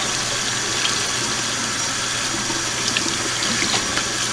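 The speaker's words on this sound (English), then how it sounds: "Rinsing down a little bit." Warm tap water runs steadily into a sink, rinsing a rainbow tie-dye T-shirt, a loud continuous splashing gush with no voices.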